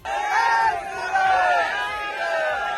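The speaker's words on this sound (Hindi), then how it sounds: "इसके लिए वहां रायसेन और आसपास के इलाकों से सैकड़ों की भीड़ पहुंची।" A protest crowd of hundreds in Raisen, India, shouts in a loud, sustained roar of overlapping voices, chanting together throughout.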